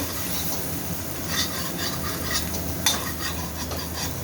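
Soybeans stir-fried in oil with salt and turmeric, a steady close sizzle with a spatula scraping and clinking against the pan at irregular intervals.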